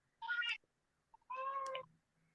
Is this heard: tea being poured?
no